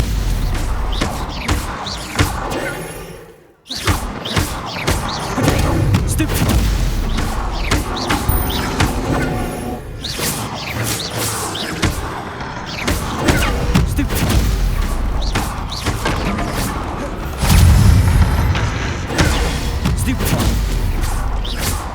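Fiery Confringo blasts from Hogwarts Legacy, heavy booming explosions and crashing spell impacts packed densely through a chaotic duel, with a brief drop near the start and a voice shouting spell names over the din.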